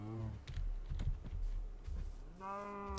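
Cows mooing in Minecraft with the FTB Unleashed modpack: a low, drawn-out moo at the start and another rising moo near the end, with keyboard and mouse clicks tapping through the middle and no talking.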